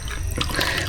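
Food dropping into a pot of boiling water in a home kitchen, a steady watery bubbling and splashing that stays close and continuous for the whole short moment, with no talking over it.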